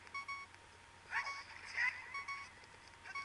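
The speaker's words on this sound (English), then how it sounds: "And that beeping is really starting to become irritating." Repeated electronic beeping in the Zelda: Ocarina of Time Master Quest video game, a few short tonal blips sounding faintly over a quiet game background, with no speech.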